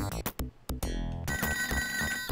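A telephone rings in a Sega Genesis video game, amid loud, buzzy game music and effects. Several harsh, tonal bursts give way to a sustained, warbling ring that carries on alone to the end.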